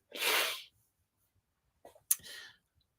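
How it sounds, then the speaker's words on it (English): One loud, sharp sneeze up close, followed after a pause by a quieter second burst of breath, then silence. "I think I'm going to sneeze."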